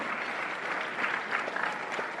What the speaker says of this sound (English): let's give a big round of applause to our Indian Army.